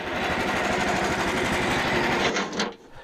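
A sawmill engine with its gas shut off runs steadily at close range, then sputters and dies away as it runs out of fuel, leaving quiet at the end.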